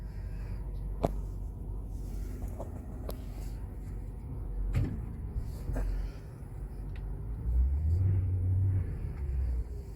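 Car on an icy driveway during an Austin ice storm, its engine rumbling low and uneven with surges as the wheels slip, close by, plus a few sharp knocks and scrapes.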